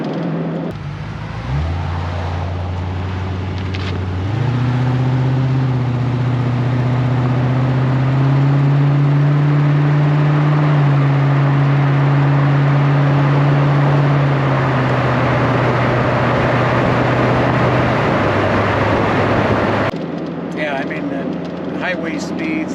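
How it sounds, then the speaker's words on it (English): A 1986 Chevrolet Corvette Pace Car Edition with an L98 5.7-liter V8 cruises at speed, its low engine drone holding steady and stepping up in pitch through the gears, with someone talking over the cabin noise. "The L98 pulls the car with no hesitation."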